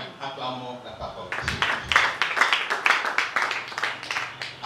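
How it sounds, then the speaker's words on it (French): Congregation at a French-language church conference applauding together, a dense, steady wash of many hands clapping that starts abruptly after a brief lull and carries on loudly, with voices mixed in. "Acclamons la parole."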